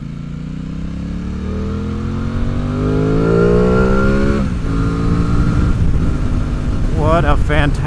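A 2026 Aprilia Tuono 660 Factory engine pulls hard while riding, its pitch climbing steadily through a gear before a shift and another rising surge. The sound is loud and close, with wind noise and a rider's voice over it.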